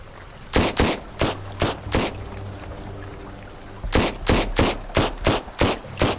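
Gunfire in the survival game Sunkenland: about a dozen sharp, loud shots come in two rapid volleys separated by a brief lull, over a low ambient hum.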